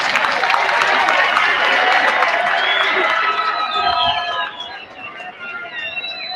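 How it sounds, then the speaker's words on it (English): An audience claps at a secondary school's 60th anniversary celebration, dense sustained applause with some cheering that thins out toward the end. "We continue clapping until he sits."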